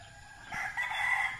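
A rooster at a gamefowl breeding farm crows once, a single drawn-out call rising in the middle and holding to the end, heard fairly close over a faint background hum.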